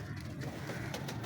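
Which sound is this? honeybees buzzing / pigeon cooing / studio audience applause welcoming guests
pigeon cooing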